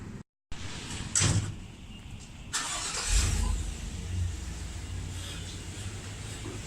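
A car engine turns over and catches after a door thud, then settles into a steady low idle rumble heard from inside the car.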